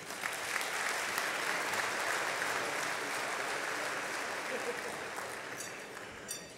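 Guests at the Chicago Urban League's annual Golden Fellowship Dinner give a round of applause, a broad, even wash of clapping from a large room, fairly distant and softening slightly toward the end.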